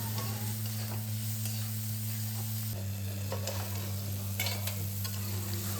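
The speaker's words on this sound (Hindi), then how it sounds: "तो मसाला अच्छे से फ्राई हो चुका है और अब हम इसमें मिला देंगे पोहा।" Spice masala and tomatoes being stirred and fried for poha during home Diwali cooking, a steady close sizzle running throughout with scraping stirs, under a constant low hum.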